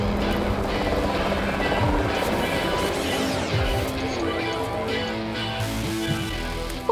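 A helicopter sound effect opens a live show intro: a steady, loud rotor drone with a swooping pass in the middle, running continuously across the whole stretch.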